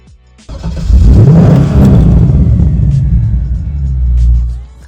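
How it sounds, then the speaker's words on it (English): A performance-enhanced 2003 Corvette C5 Z06 fires up close by into a loud, deep, rumbling engine roar that holds steady and then swells again before settling. "This is my 2003 Corvette Z06."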